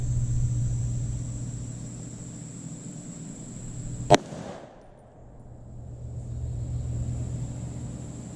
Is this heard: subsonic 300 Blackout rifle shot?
yes